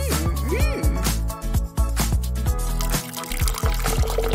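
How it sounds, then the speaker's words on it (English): Juice is poured into a container in a continuous liquid stream with gurgles and trickling, loud and close throughout, over a bed of music. "Pour some juice inside."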